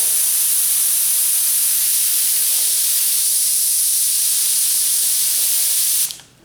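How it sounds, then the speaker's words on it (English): An airbrush sprays heavily reduced paint on a 1977 Camaro, a loud, steady close-up hiss that runs unbroken for about six seconds, then cuts off abruptly. "Let's see how this stuff sprays out."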